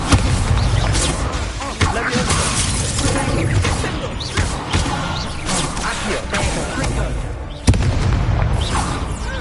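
An Incendio fire spell blasts in the Hogwarts Legacy video game: loud, dense whooshing bursts and crackling booms follow one another with hardly a break, with a sharp new burst near the end and voices mixed in.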